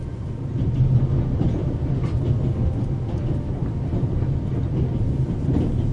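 Train rumbling along in The Raven video game, a steady low clattering roll with faint clickety-clack, continuous and fairly loud throughout with no talk.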